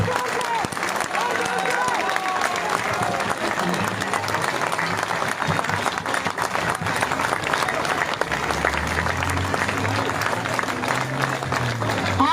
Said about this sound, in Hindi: एक बार फिर से जोरदार तालियों की 5 मिनट की गड़गड़ाहट के साथ जंतर मंतर से संसद तक आवाज पहुंचा दो।